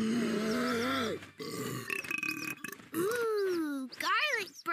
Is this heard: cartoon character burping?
yes